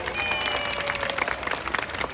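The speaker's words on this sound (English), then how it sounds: "So folks, let's give her a round of applause." A crowd at a Long Island aquarium sea lion show claps for Lucy the sea lion, giving steady, dense applause throughout with a faint whistle-like tone early on and no clear speech.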